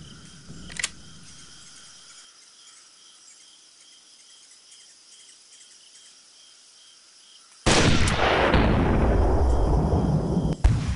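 A hunting rifle shot in Hunting Unlimited 2011 bursts out loud and close after a quiet stretch of faint outdoor ambience with insects, its roar decaying slowly, preceded by a small click and distant thump.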